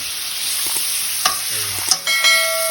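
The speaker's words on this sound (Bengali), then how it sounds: "হলুদের গুঁড়ো, মরিচের গুঁড়ো আর জিরের গুঁড়ো আর একটু হালকা জল দিয়ে মিক্স করা হচ্ছে।" Tomato and green chili get stirred in a pan with turmeric, chili and cumin powders and a splash of water. The sizzle is close and bright, with quick spatula scrapes and a few clanks near the end.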